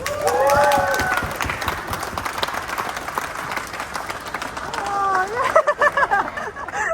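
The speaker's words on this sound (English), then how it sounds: "So give yourselves a round of applause." An audience at a caravan show claps and applauds, with several bursts of clapping mixed with crowd chatter and voices talking over the noise.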